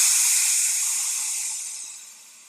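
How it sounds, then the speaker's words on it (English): A strong burst of compressed air rushes out of a tubeless bike tire inflator pump's charged chamber, a loud close hiss that starts at full force and tapers off over a couple of seconds. "then you can release the air by a flip of the switch"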